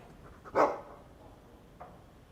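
A guard dog in Dragon Age II gives one sharp, fairly close bark, followed moments later by a fainter second bark over quiet background.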